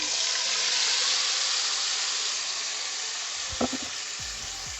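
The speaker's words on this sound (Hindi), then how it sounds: "जिसमें हमने प्याज ब्राउन किए थे वही ऑयल में हम ये चिकन शामिल कर देंगे।" Chicken pieces go into hot oil left from browning onions for chicken masala, producing a loud, continuous sizzle that crackles evenly, with a brief clatter of utensils near the end.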